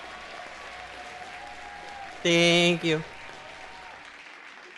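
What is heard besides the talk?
audience applause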